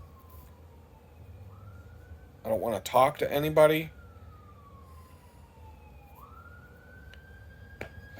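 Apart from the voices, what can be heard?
siren of passing emergency vehicle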